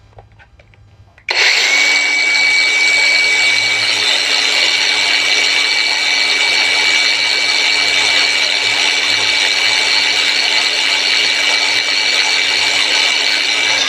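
A DEKWE DK2448+ cordless angle grinder spins up at maximum speed, a loud, steady high-pitched whine that starts abruptly after a quiet moment and holds evenly to the end.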